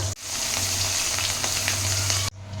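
Hot oil sizzles and crackles steadily with fish frying in it under a lid, a continuous close spatter under a low hum, ending abruptly.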